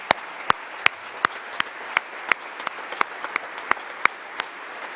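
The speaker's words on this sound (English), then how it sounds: "So if we can acknowledge them again one more time with a clap." At a school graduation ceremony, the audience gives sparse, evenly spaced claps, sharp individual hand strikes in a slow steady rhythm over a quiet room.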